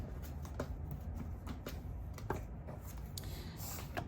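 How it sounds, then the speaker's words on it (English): Close, continuous rustling and soft riffling of tarot cards being shuffled by hand, with small flicks and taps scattered through the dense, steady shuffle. "Let me shuffle real quick."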